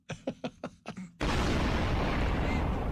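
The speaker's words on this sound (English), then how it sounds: "Explosion." An explosion sound effect on a comedy talk show bursts in as a sudden loud roaring blast that keeps rumbling, after a run of short rhythmic thumps.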